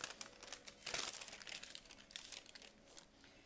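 Sheet of paper being folded close by, a quick burst of crisp crinkling and rubbing that swells and then fades over a few seconds, with no one talking.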